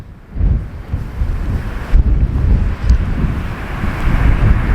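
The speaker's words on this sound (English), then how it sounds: "see the waves rolling in there?" Sea waves roll in along a windy coastline near cliff tops on the Isle of Arran, a broad surging roar mixed with strong gusts buffeting the microphone.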